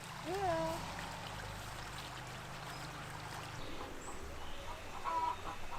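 Free-range laying hens cluck on a farm, with a few short calls rising over a steady outdoor background hiss while a voice narrates throughout.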